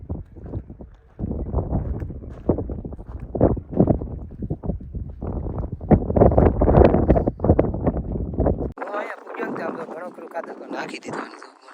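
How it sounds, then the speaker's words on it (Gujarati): Wind sweeps across an open farm field where homemade manure is being spread, roaring and buffeting loudly against the microphone in uneven gusts before dropping to a lighter hiss. "પવન છે હવા"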